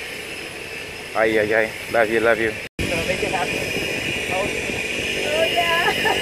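A steady engine drone from small planes at an airfield fills the background while people chatter and call out nearby, briefly cut off midway before the hum resumes.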